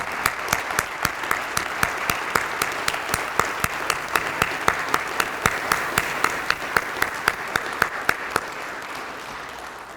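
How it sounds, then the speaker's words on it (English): Moderate applause from a crowd at a National Night Out Against Crime kick-off honours police, first responders and emergency personnel, with individual sharp claps standing out in a steady rhythm over a softer wash of clapping. "let's give them a round of applause"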